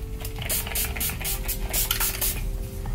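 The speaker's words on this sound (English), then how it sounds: "Then I'm taking my NYX Dewy Finish spray" NYX Dewy Finish setting spray is pumped in a quick run of short, hissy bursts, about eight close sprays in a row, each with a faint click of the nozzle over a low background hum.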